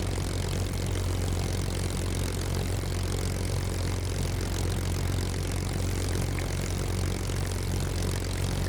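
Spitfire Mk IX propeller engine in the DCS combat flight simulator drones loudly and steadily while taxiing, a constant, dense roar with no breaks or voices.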